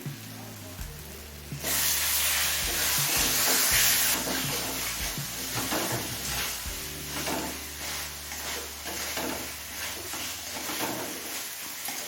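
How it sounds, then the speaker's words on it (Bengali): Pre-fried potatoes sauté with spice paste and salt in a pan over a medium flame, giving a loud, steady sizzle with repeated scraping stirs, quieting slightly after the first few seconds. "নুন আর আলু দিয়ে মশলার সাথে আরও দু তিন মিনিট কষিয়ে নিলাম"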